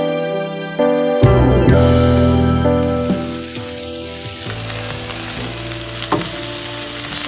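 Rough-cut onions, celery, carrots and leek tops are stirred in a hot pan, sizzling loudly, with scraping strokes, metallic clinks and a sharp clatter near the start.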